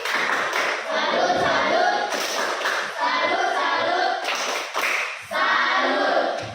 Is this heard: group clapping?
yes